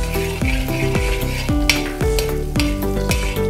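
Shallots sizzle loudly in a pan with half-fried ginger and garlic while a spoon stirs in a steady rhythm, scraping and clinking about twice a second, close up with no talking.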